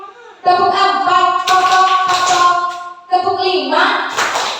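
Group clapping in short rhythmic bursts at a positive-culture teacher training session, loud and close, heard alongside a leader's steady chanting voice.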